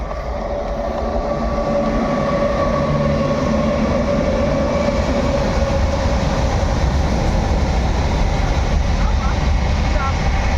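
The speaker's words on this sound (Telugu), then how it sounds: "ట్రాక్ దగ్గరికి ట్రైన్ వస్తుంది నా వాయిస్ రాదు చూడండి" A train passes close by on the track near a station, a loud, steady rumble and rolling clatter of railcars that fills the whole stretch and drowns out everything else.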